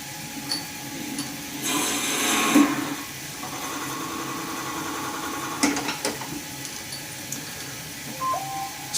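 A wood lathe slowed down for drilling bores out an epoxy resin shaving brush blank with a 28 mm bit, giving a steady close mechanical whir with a louder grinding burst partway through.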